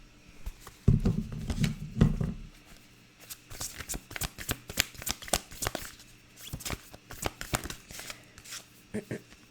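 Animal spirit oracle cards are shuffled by hand in quick papery riffles and flutters, with a soft thump near the start and bursts of shuffling throughout.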